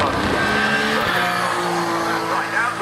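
Touring cars in British Touring Car Championship qualifying corner hard into Hislop's on a circuit, engines roaring loud and steady with tyre squeal, while a commentator talks over the top.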